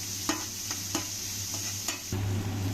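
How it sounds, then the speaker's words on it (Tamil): Chopped onions sauté in a pan for a homemade lunch, giving a steady soft sizzle broken by a few sharp scrapes and taps of stirring. No one speaks. "ஃபைவ் மினிட்ஸ் வெங்காயம் வதங்கணும்"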